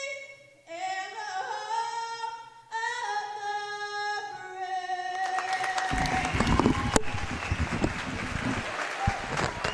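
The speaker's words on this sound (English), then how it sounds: "A well-deserved round of applause" After a solo singer finishes the national anthem at a Broken Bow versus Idabel game, a crowd breaks into loud, sustained applause and cheering that builds and carries on to the end.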